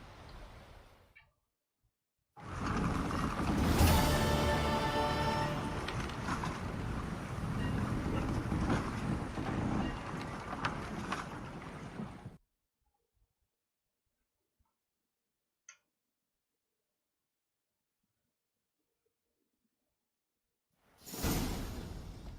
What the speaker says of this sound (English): High time we set sail.